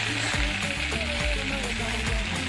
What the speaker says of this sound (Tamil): நல்லா வந்து ஃப்ரை ஆகட்டும்.